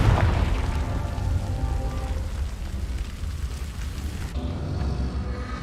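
In the Hogwarts Legacy video game, a Confringo spell blast explodes with a heavy boom and then rumbles, crackling like falling debris, before the noise cuts off and a lower rumble follows.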